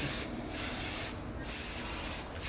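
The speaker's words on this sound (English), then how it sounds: "I just spray it before I comb it out" Three bursts from a hair-product spray bottle misting hair before combing, each a close, loud hiss about a second long with short gaps between.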